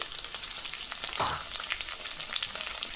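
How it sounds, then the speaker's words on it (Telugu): Curry leaves and green chillies frying in hot oil for a chicken gravy, giving a steady, close, loud sizzle with a brief swelling crackle partway through and no talking. "కరివేపాకు యాడ్ చేసుకొని ఒక నిమిషము ఫ్రై చేసుకోండి."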